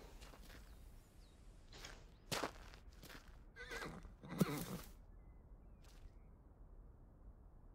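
A horse neighs and snorts a few times amid hoof clops and stable sounds in a barn in the video game Alfred Hitchcock's Vertigo, fairly quiet against a hushed background.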